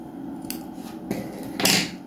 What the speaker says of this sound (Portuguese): Vou cortar aqui o fio.